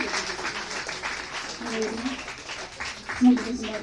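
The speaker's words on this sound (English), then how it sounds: "on applaudit pour notre poète" Scattered audience clapping at a poetry slam, moderate and uneven, mixed with people talking and murmuring in the room.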